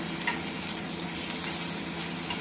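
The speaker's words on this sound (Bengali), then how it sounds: "তারপরে আমি একটু তেল দিয়ে আবার মচমচে করে ভেজে নেব" Dried fish frying in mustard oil in a pan gives a steady, close sizzling hiss that holds evenly throughout, with one small pop near the start and no voices.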